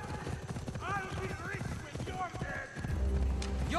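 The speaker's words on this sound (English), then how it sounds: "What's my horse doing?" Horse hooves clip-clop in the video game Vampyr, an uneven run of hoof beats under game music and character voices, with a heavier rumble near the end.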